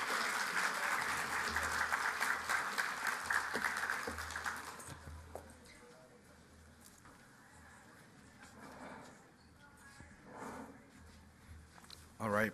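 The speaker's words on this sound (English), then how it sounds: "I want you to give yourself a round of applause for all the work you've done throughout your career" Audience applause at a Hispanic health summit, dense and steady for about five seconds, then fading into thinner scattered clapping with room noise and some voices.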